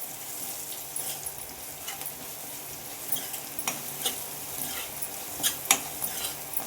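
Cumin seeds sizzling in hot oil for jeera rice, a continuous bright frying hiss with scattered sharp clinks and scrapes of a stirring utensil against the pan, close up with no talking.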